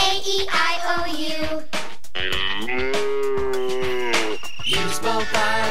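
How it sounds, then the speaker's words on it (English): A cow moos in a kindergarten cartoon on a farm, giving a series of long, drawn-out lowing calls close up, with brief breaks between them. "And on that farm he had a cow."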